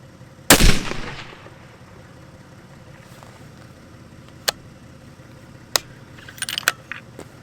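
A single loud rifle shot from a custom 300 WSM rifle fired at a target outdoors cracks sharply and echoes away, followed by several faint metallic clicks and clatters.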